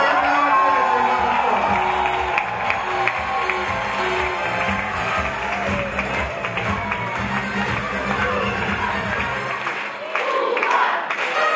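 Audience at a KVN comedy team contest in Tula applauding and cheering loudly and steadily for about ten seconds, with whoops and crowd noise blending into a dense wash of clapping before it thins near the end.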